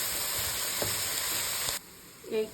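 Chawli leaf bhaji sizzles steadily in a pan on a gas stove on medium-low heat, with a few stirring clicks. The frying cuts off sharply near the end and a brief clatter follows.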